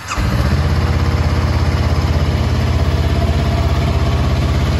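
A 2021 Honda CL500 motorcycle engine catches and then settles into a steady, loud, close idle with an even, throbbing rhythm.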